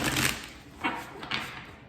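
Tarot cards being shuffled by hand, a few soft papery riffling bursts close up with brief pauses between them, quiet and without talk.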